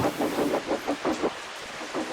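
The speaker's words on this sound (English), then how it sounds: "It was rainy, very rainy, but still Stuart pressed on." Rumbling thunder rolls in repeated low pulses with rain falling steadily, heard without any voices.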